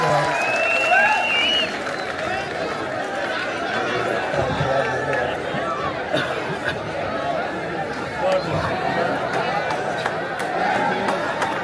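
Crowd applause at a qawwali gathering during the Phool Walon Ki Sair festival in Delhi: sustained clapping mixed with audience chatter and murmuring voices, a fairly loud and busy crowd sound with no single dominant voice.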